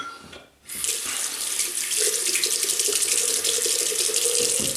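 Cold water gushes from a tap in a strong, steady stream after a brief pause, loud and close, filling a sink without letup.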